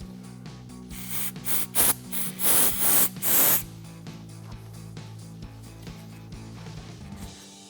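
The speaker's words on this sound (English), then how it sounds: "you want to grab a can of brake clean and spray this down and wipe it off" Brake cleaner sprays from an aerosol can onto an APB six-piston brake caliper on a 2013-2022 Ford F-250, in several sharp, close hissing bursts with a longer blast, set over a steady low hum.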